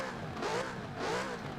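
A Lexus RC F in Forza Horizon 4 revs twice in quick succession, two short engine swells rising and falling over a steady mid-pitched idle, fairly quiet.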